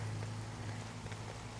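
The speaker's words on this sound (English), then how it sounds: "And it just started raining." Rain falls steadily in a garden during summer, making a continuous soft hiss of drops on surfaces over a low background hum, with no voices.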